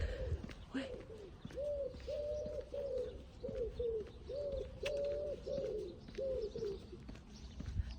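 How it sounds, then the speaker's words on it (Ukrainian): A dove coos softly and repeatedly in a steady rhythm, faint against quiet outdoor background noise. "Голубка співає."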